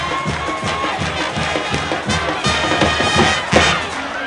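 A big crowd at a high school football game roars and cheers continuously, a dense wall of voices with rhythmic thumping beats running beneath it.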